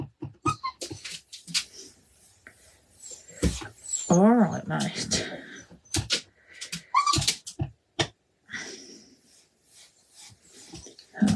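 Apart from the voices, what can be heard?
dog whimpering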